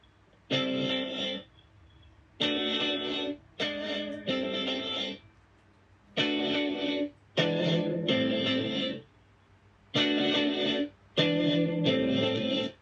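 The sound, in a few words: looped electric guitar riff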